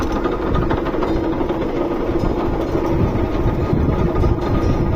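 Gear-cutting machine in an engineering workshop cutting inside teeth on a reverse and forward gear, giving a steady, loud mechanical grinding rumble with continuous rhythmic clatter throughout.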